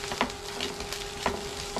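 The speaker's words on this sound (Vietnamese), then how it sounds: "Thì các bạn chiên khi nào thấy nó nổ cái hộp cơm nó nổ lóc bóc á, và cơm mình đã ngon rồi." Rice frying in a pan, a soft steady sizzle with a few sharp pops and crackles scattered through, close and moderately quiet, without voices.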